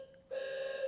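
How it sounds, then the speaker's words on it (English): An alarm sounds abruptly during an indoor conversation, a steady electronic tone that starts suddenly and holds, moderately loud. "Is that a fire alarm in the middle of this?"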